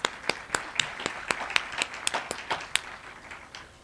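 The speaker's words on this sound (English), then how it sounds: "Shall we give him a round of applause?" Sparse, loose clapping at the UNDP Timbuktoo and UJ UniPod launch event, a handful of distinct claps in irregular rhythm, fairly quiet and thin rather than a full crowd.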